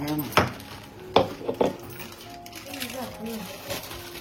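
Several sharp metallic taps ring out on a heavy steel mixer grinder jar, a few spaced knocks close by, with a person speaking in between.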